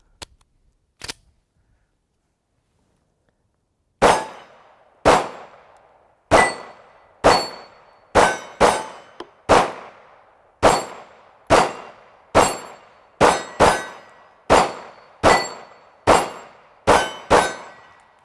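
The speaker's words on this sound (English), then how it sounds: "we're just going to load up and start shooting this thing" A Ruger American 9mm pistol fires about sixteen sharp, loud shots at a steady, unhurried pace, each with a ringing tail. Two faint clicks come first, followed by a few seconds of silence.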